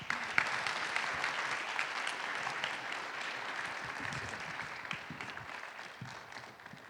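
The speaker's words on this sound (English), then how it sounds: "Let's give a warm CSU round of applause" An audience at a CSU salon event gives a warm round of applause to welcome two speakers, steady moderate clapping lasting about seven seconds and fading slightly at the end.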